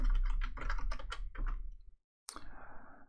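Rapid close-up keystrokes on a computer keyboard come in a quick burst, then stop, followed by a brief pause and a single louder clack.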